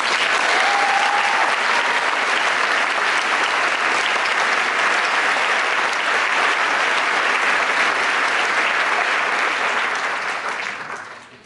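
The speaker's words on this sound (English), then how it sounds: "Please help me in giving them a round of applause." Sustained, loud applause from a large audience at a graduation ceremony after a valedictorian speech, a thick, even roar of clapping hands lasting about ten seconds before fading away.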